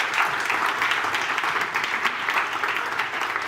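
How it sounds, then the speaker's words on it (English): A room of hackathon attendees applauds steadily, a continuous wash of many hands clapping at even loudness from start to end. "please give her a big round of applause"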